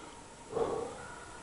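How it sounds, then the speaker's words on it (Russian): A single short dog bark sounds once in the distance in woodland, faint against a quiet outdoor background. "Очередной лай."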